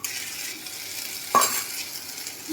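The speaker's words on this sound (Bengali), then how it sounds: "তারপর আমি একটা প্যানের মধ্যে দিয়ে দিচ্ছি চাল" Rice tipped into a pan brings a soft, even sizzle with one brief louder scrape or clatter partway through and no one talking.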